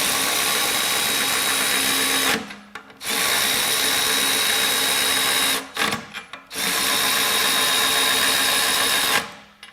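An older cordless Milwaukee M12 ratchet runs in long continuous whirring bursts, loud and close, with two short pauses between runs and a high steady whine throughout.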